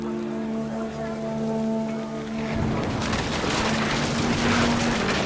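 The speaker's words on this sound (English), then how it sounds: "The rain came down in buckets then" Heavy rain in the video game What Remains of Edith Finch, a dense steady hiss of downpour that swells in the second half, coming in over a sustained tonal drone that fades out.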